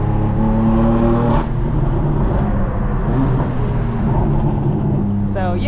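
A 2015 BMW M4 with a DCT gearbox accelerates hard, its loud engine note climbing in pitch through a quick gearshift, then pulling steadily again and rising once more near the end, close and dominant.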